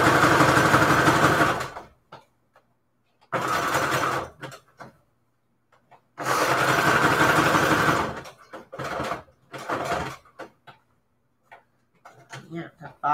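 A sewing machine sews a zigzag stitch in three long, loud whirring bursts with short pauses between them, while a person talks quietly in the gaps.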